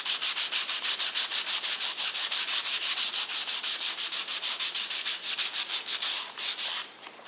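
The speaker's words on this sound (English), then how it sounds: "I'm actually going to sand my bottom a little bit because I think this was a little bit rough" Folded sandpaper is rubbed by hand across the bottom of a plywood candle box in quick, steady back-and-forth strokes, about five per second. The scratchy sound is close and loud, then slows and breaks off near the end.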